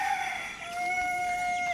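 A rooster crows among chickens on a farm in Baras, Rizal, a single drawn-out crow, close and clear, with no voices.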